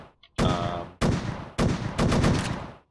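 Assault rifle fire in a video game: four loud, close bursts of rapid automatic shots separated by brief gaps, each burst sharp and dense, with the last one running longest.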